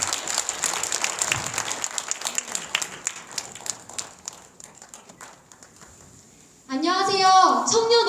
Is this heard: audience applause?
yes